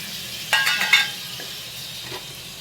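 Tomatoes tipped into a sizzling whole masoor curry in a pan, a short burst of louder crackling and metallic scrapes from stirring over a low steady fry, then quieter sizzling.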